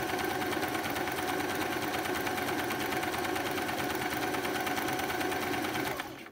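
A Singer sewing machine runs continuously while stitching a decorative pattern, a dense, even whirring hum with rapid needle clatter that holds steady throughout before stopping at the very end.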